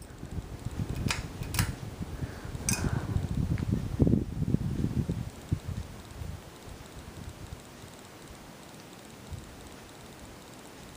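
A Canarm 52-inch lit-housing ceiling fan runs at medium speed, a soft, steady low whir that continues alone after some brief clicks and handling noise at the start.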